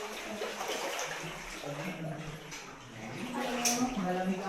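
Cold, knee-to-waist-deep water in Capisaan Cave, Philippines, sloshes and splashes continuously as someone wades through it. Voices talk over the wading.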